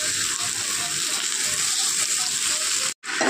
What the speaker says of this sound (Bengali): ডালটা দিয়ে কিন্তু একটু ভেজে নেব আমি।